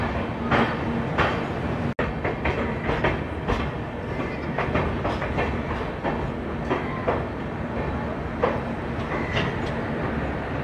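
The Sairang–Delhi Rajdhani Express running on the rails after leaving Bhagalpur gives a loud, continuous rumble with a rhythmic clickety-clack of wheels over rail joints, heard close from inside the train.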